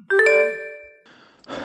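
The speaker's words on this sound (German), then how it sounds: "Der Wecker hat geklingelt." An alarm clock sounds a single bright, sustained chime that fades over about a second, followed by faint rustling and a breathy noise.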